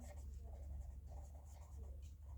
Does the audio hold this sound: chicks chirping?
no